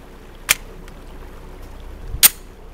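Two sharp, distant-sounding reports from a Sig Sauer SP2022 pistol firing .357 SIG, spaced under two seconds apart, each a brief crack over quiet outdoor background.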